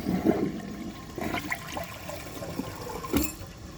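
A 2004 Crane Sureflush toilet flushes on half a tank, water rushing and gurgling close by for a few seconds with uneven surges and a final splash.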